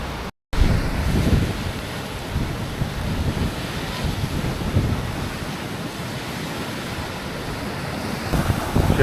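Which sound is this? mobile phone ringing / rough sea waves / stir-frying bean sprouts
rough sea waves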